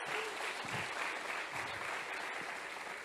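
Applause from a church congregation clapping in praise of God, a steady dense wash of many hands sustained throughout at moderate level.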